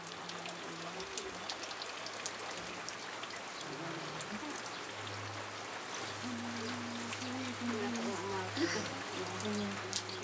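Rain falls steadily on surfaces in an Indian village, a soft continuous patter, while someone narrates over it.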